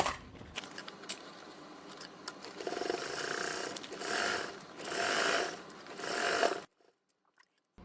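Sewing machine top stitching a duffle bag seam, running in quick rhythmic bursts that swell and ease for several seconds before stopping abruptly into near silence, close and fairly quiet.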